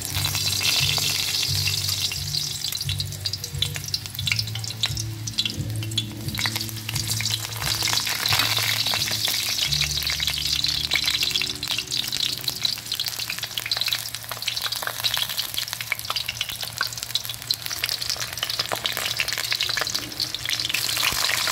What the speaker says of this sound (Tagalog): prito muna natin yung talong guys